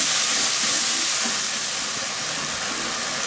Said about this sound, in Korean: 불고기 양념을 이렇게 넣어서 같이 일단 볶겠습니다